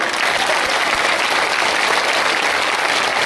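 Dense, steady applause from a village crowd at a kirtan, loud and continuous throughout with no break.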